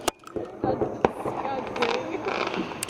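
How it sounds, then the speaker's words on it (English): Town fireworks bang in a quick, irregular series of sharp pops and crackles, with people talking and exclaiming over the blasts. "Those are the town's fireworks"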